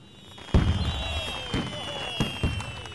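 Several sharp firework bangs burst at uneven intervals, crackling faintly with distant whistles between them over a steady background hum.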